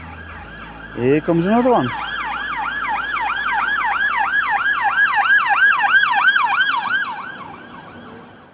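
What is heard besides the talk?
police car sirens passing on a road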